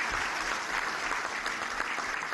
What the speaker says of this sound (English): Ian, round of applause